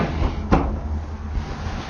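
A small drawer in a 2020 Jayco Pinnacle RV opens or closes with a single soft knock at close range, followed by a fainter second bump and quiet room tone.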